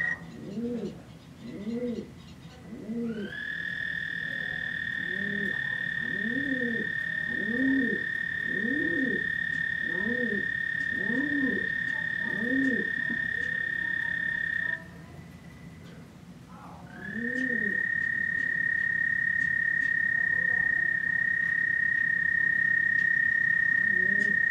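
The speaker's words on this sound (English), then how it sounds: "let's take a listen to the sound of an American toad." An American toad calling: a string of about ten soft, evenly pulsed low notes, then a long sustained trilling call, a brief pause and the trill again, loud and close over quiet outdoor background.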